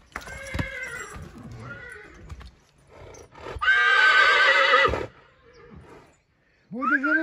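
A Brabant stallion whinnies loudly for about a second, then snorts again near the end, with people talking before it.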